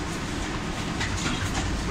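A Moscow metro train runs along the line with a loud, continuous rumble and rattle of carriages, with faint rhythmic clicks over the track throughout.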